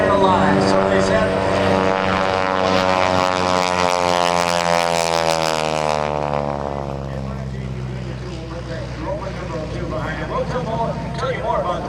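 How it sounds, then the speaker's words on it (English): A T-6 Texan propeller trainer makes a pass at the 2012 Cleveland National Air Show, its loud engine drone rising and then sliding down in pitch as it sweeps by and fades, under a commentator's voice. "Jim Leavelle bringing it around for another pass"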